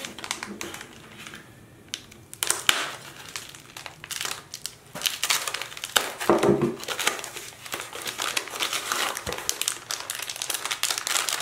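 NOVA Pod earbuds packaging being unboxed: close plastic and cardboard crinkling and rustling, with sharp handling clicks and taps continuing throughout the clip.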